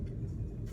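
Steady low engine rumble and road noise from inside a car on the way to Adlington in Chorley, continuous and fairly loud with no talk.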